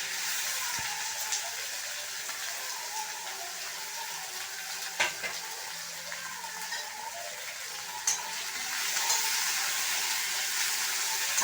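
Onions sizzle in a heavy pan for a traditional South Indian banana flower vada curry, a steady soft frying hiss throughout with a few clinks and stirring knocks, fairly quiet and free of talk.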